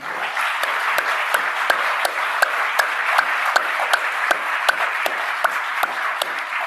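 A crowd applauds steadily, dense clapping holding at an even, loud level throughout without voices standing out.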